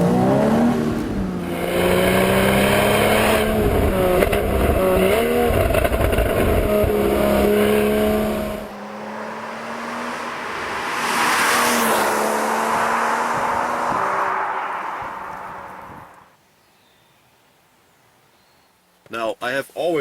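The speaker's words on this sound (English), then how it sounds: "And listen to the downshift. Even backfires like nothing I've driven before from Porsche." A 2012–2013 Porsche Boxster S (981) with PDK transmission drops gears with a loud, close engine note falling and rising, followed by a rougher burst of exhaust noise and a quiet pause, then a few sharp pops at the end.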